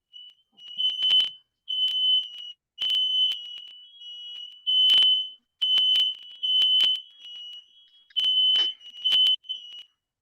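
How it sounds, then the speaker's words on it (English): Smoke detector fire alarm going off in a house, a shrill high-pitched beeping repeated in irregular bursts of about half a second to a second, loud and close with no talk. "oh, look, fire alarms in the house going off."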